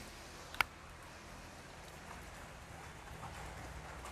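Steady rain falls outside during the charging of a Wuling Binguo electric car, a faint, even patter throughout with one sharp click near the start.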